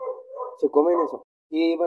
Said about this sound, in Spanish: perdón por el ladrido del perro